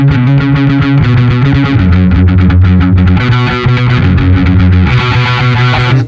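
Electric guitar played through the distortion setting of a NUX effects unit, loud, sustained, saturated chords with shifting notes and no talk.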